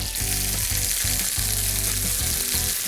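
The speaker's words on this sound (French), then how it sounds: "les rôtir juste un petit peu dans une poêle avec de l'huile d'olive et du beurre" Ballotines and porcini mushrooms sizzling and frying in a pan with olive oil and butter, a loud, dense, continuous crackle with steady bubbling throughout, no voices.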